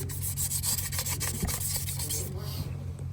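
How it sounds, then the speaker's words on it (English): Emery cloth is worked back and forth over a CFMOTO clutch shaft to clear burrs, making repeated close, gritty rasping strokes in a steady rhythm. "Clean the shaft up a little bit if it has any burrs or anything. Just got some emery cloth here."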